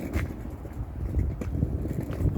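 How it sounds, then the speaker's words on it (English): Steady, low rumbling wind buffets the microphone outdoors in a Toronto snowstorm, a continuous gusty roar with faint scraping, no voices. "Look, it's windy right now."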